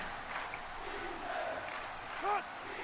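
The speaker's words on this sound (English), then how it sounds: "You can hear the Cookeville crowd getting into it." A video game crowd from NCAA Football 06 roars steadily through a Tennessee Tech home game in Cookeville against Eastern Kentucky. The noise is a diffuse, mid-level swell with a brief louder burst near the end, and a commentator's voice mixes in.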